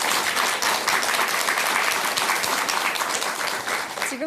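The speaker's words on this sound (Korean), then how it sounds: "우리 송혜경님께 큰 박수 한번 주시기 바랍니다" A studio audience gives a sustained round of dense applause on a Korean Buddhist television program, steady and fairly loud from start to finish.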